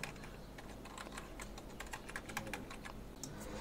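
Quiet, rapid keystrokes on a computer keyboard as a folder name is typed, an irregular patter of light clicks continuing throughout.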